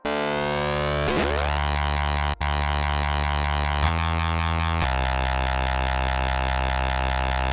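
A dense, buzzy FM synthesizer tone from Serum 2, rich in metallic overtones, sounds continuously, its pitch sweeping and timbre shifting in stepwise changes, with one brief dropout.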